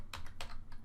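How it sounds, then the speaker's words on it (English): A web address typed on a computer keyboard, three quick close key clacks in a short burst with no talking. "you're going to go to your address bar and you're going to type in"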